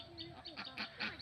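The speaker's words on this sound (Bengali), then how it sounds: "দেখুন গ্রামের হাঁসগুলো একসঙ্গে" Village ducks give a run of short nasal quacks, several close together in quick succession, moderately loud and near, with no talk in the clip.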